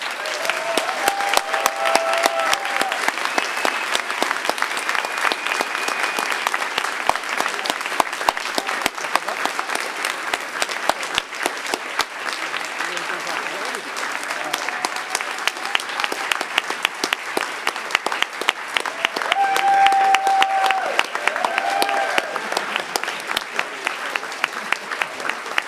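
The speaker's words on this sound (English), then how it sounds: "One final round of applause for our organizers and for you guys." A conference audience at a hacker gathering's closing ceremony gives its organizers a long, sustained round of applause, dense clapping from a large crowd that swells near the end before continuing.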